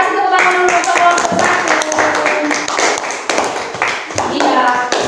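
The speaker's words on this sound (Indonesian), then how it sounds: "kasih tepuk tangan dulu untuk kelompok" Classroom pupils clap for a group of classmates, a burst of sharp, closely spaced hand claps mixed with children's and a teacher's voices talking over the clapping.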